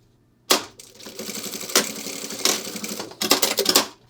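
A sewing machine back tacking fabric while a 20L bag is sewn, several short mechanical rattling bursts with brief pauses between them, close and fairly loud, with no talking.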